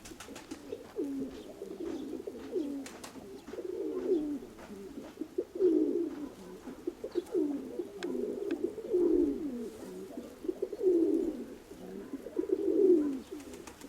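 Pigeons coo in soft, repeated low rolling phrases, several birds overlapping steadily, with faint clicks and rustles in the background.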